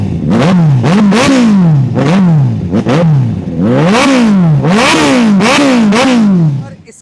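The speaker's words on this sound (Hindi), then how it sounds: "आप पहले आवाज सुन लो बाइक की" A 2017 superbike fitted with a replica exhaust is revved hard again and again, eight or so rising-and-falling throttle blips in quick rhythm, loud and close, with someone briefly speaking before the engine settles.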